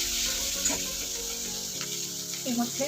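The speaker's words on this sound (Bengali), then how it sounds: "দিয়ে দিচ্ছি পেঁয়াজ কুচি" Chopped onion hitting hot oil with black cumin in a pan, a steady close sizzle of frying with soft stirring; someone speaks briefly over it.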